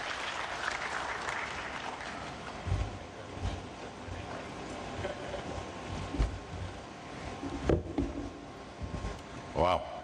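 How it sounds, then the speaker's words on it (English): A conference audience at an African airlines association general assembly applauds, fairly faint and diffuse clapping under a hall ambience, with some louder thumps and a voice over the sound system. "Round of applause, please."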